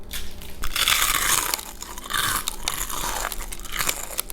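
Jack in the Box onion rings are bitten and crunched up close, with a series of loud, crisp crunches and chewing bursts separated by brief pauses and no speech.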